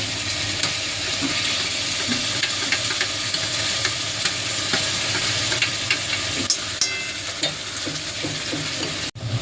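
Onion, ginger, garlic, green chilli and tomato paste fry in a pan for Kashmiri aloo dum. The sizzle runs steady and close throughout, with spoon scrapes and stirring clicks, and ends in a brief sharp knock.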